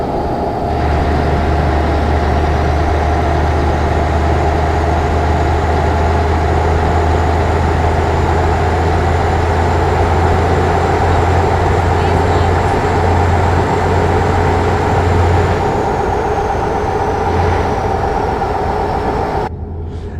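A truck engine in a truck simulator game drones steadily and loudly for about twenty seconds, a constant low hum with a sustained whine above it, cutting off abruptly at the end.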